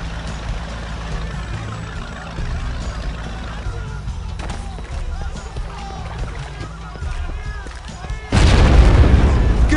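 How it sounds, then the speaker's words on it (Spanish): Video game explosions in Delta Force: Black Hawk Down: distant rumbling booms roll under a low engine drone, then a loud, close blast erupts near the end. "¿Qué diablos ha sido eso? ¡Explosiones!"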